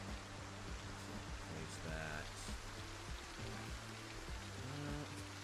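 Steady rain falls in Project Zomboid, an even wash of hiss and patter running the whole time beneath a low hum, with a brief spoken phrase partway through.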